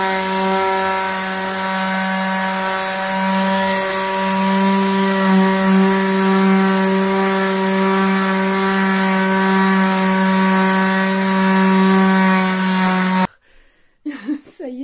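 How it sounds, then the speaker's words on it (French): A power sander runs steadily on a wall to flatten it, a loud continuous whine that fills the clip and then cuts off abruptly near the end, followed by brief quiet movement. "je vais poncer, froute, pour essayer de vraiment aplanir"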